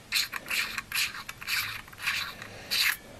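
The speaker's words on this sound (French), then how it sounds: "Et l'arrière qui se dévisse aussi." Rear cap of a Fenix LD12 AA flashlight being unscrewed, a series of close, gritty metallic scrapes in short repeated twists, with brief pauses between them.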